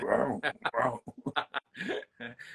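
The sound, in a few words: dog barking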